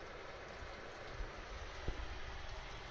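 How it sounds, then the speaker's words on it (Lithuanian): Heavy June rain falling steadily outside a house, a continuous broadband wash of drops at moderate distance with a few louder splashes, no talking. "Ir žiūrim į tą liūtį."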